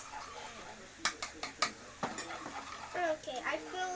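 Homemade slime of clear glue and water being stirred in a bowl, with sticky, squelching scrapes and taps in short bursts, close and fairly quiet, while children talk over it.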